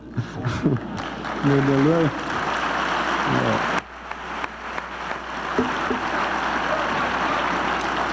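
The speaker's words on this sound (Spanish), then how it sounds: "ese aplauso bien caloroso y motivador" Warm applause from an audience at a FIFA Hall of Fame event for Mágico González, a dense steady patter of many hands filling the room, with a voice briefly heard early on before the clapping carries on alone.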